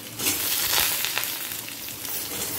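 Okra and potatoes fry in a pan for a ladies' finger curry with mustard paste, giving a steady close broadband sizzle with faint crackles throughout, no voices.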